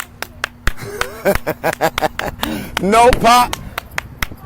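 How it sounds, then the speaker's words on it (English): Sharp hand claps ring out in an irregular series while someone speaks and calls out over them at a protest in Rosemont, fairly close and loud. "She's clapping with her hands."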